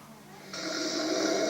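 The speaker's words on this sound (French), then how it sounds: "On dirait que votre voisin ronfle." A hypnotized spectator at a stage hypnosis show gives a snore that begins abruptly and holds as a steady rasping drone for about a second, close and moderately loud.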